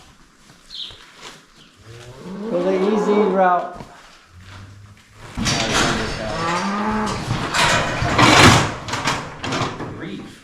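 A cow moos loudly at close range on a farm at the start of breeding season. There are several long, drawn-out calls, and a person speaks in between them.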